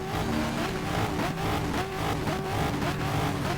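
Corvette race car engine in the racing game GTR2 at Long Beach, a loud continuous roar with rising and falling revs through gear changes, heard alone.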